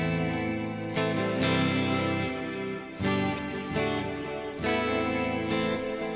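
An electric guitar through a Neural DSP Mark IIC+ studio clean preset plays ringing chords with bright sustain and light ambience, struck in several phrases with brief pauses between.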